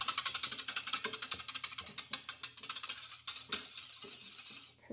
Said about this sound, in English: And then I just take and blend it up with a whisk.